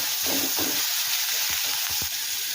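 Onion sizzling in hot oil: a steady, close crackling hiss with a few soft stirring knocks.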